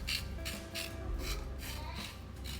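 Knife blade scraping scales off a pompano, a rhythmic series of rasping strokes about every half second, close and fairly loud with no talking.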